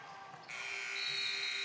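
A loud electronic buzzer blares at a high school boys basketball game, a steady harsh tone that starts abruptly and holds over crowd noise.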